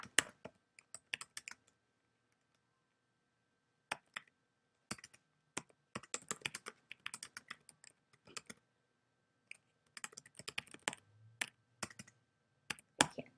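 Text is typed on a computer keyboard in quiet, close clusters of light key clicks, separated by pauses of a second or two.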